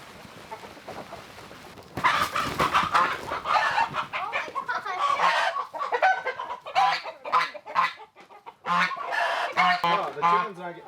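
Chickens cluck and squawk in quick, overlapping bursts on a homestead, with roosters present, close and fairly loud, with a few honking calls mixed in.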